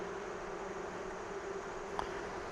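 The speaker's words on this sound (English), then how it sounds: "This chamber's by far got the most bees" Honey bees in an American AZ hive chamber make a dense, steady buzzing drone that holds throughout, with one brief louder buzz near the end.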